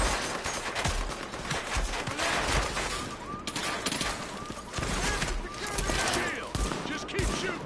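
Rapid sidearm shots crack repeatedly in the video game Tom Clancy's The Division, dense and continuous throughout, with voices speaking underneath the shooting.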